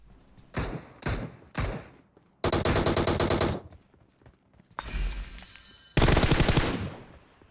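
Bursts of rapid automatic gunfire in a battle royale video game, several short volleys followed by longer sustained strings, loud and crisp with no speech.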